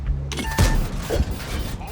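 A tank cannon fires in a tank video game: one heavy booming shot near the start, followed by rumbling mechanical noise and a softer thud, fairly close and loud.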